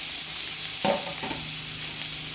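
Chopped onion sizzles steadily in oil in a kadhai, with a brief clatter of stirring partway through, close and continuous.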